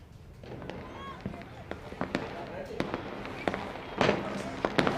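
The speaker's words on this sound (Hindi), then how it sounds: "मुझे सिर्फ अपने कानों में पटाखों की गूंज, आतिशबाजियां ही सुनाई दे रही है।" Firecrackers pop and crackle repeatedly during Makar Sankranti celebrations in Jaipur, sharp bursts near and far, amid a busy crowd with voices talking over the noise.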